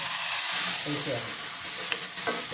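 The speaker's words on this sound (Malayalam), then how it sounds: "ആ ജാറിനകത്ത് വെള്ളം ഒഴിച്ചിട്ട് അതും കൂടി ഇതിനകത്തോട്ട്" Water poured into a hot pan of simmering curry sets off a steady, loud sizzle and hiss, with brief stirring or splashing bursts rising over the constant frying noise.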